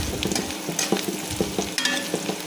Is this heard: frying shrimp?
yes